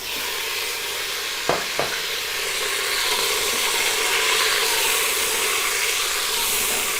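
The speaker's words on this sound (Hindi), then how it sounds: "इसमें अब गोश्त ऐड करूँगी।" Mutton goes into a pan of frying garlic and ginger, producing a continuous sizzle that swells and holds steady, with a couple of quick utensil knocks early on and stirring underneath.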